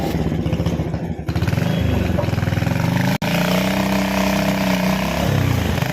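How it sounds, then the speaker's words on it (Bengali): A motorcycle carries riders along the road with a steady, close engine hum. It drops out for a split second midway, then carries on. "চলো চালাও তুমি বাইক।"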